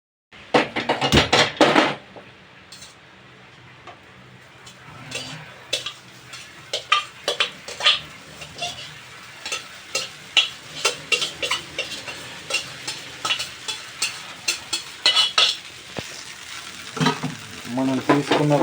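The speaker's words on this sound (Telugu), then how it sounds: "మనం తీసుకున్న రైస్ అయితే దీంట్లో ఈ విధంగా సెట్లో వేసుకొని లైట్గా లో ఫ్లేమ్లో పెట్టుకొని ఒక 1 మినిట్ తిప్పితే" Egg rice stirred and fried in a pan over a low flame, with a soft sizzle under repeated scraping and clinking of a spatula against the pan, close and continuous without talk.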